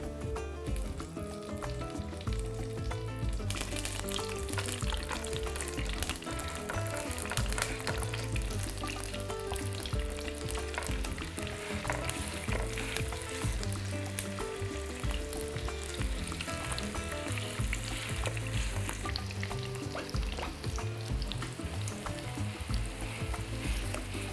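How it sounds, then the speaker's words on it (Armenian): Beef ribs sizzling in a heated mix of olive oil and butter in a pan, a continuous, close crackling fry with occasional stirring and spatter, no voices. "հենց տաքացավ, տապակում ենք կողիկները։"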